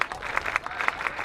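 A hometown crowd at a high school football game cheers and claps, led by cheerleaders. Rhythmic bursts of cheering and clapping come from a little distance and stay fairly faint.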